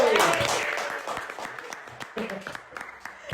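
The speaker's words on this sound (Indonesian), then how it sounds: "Tepuk tangan dong, Ade!" An audience applauds at an indoor talk event on workplace character education. The loud clapping starts at once, then fades over the next seconds while voices come in.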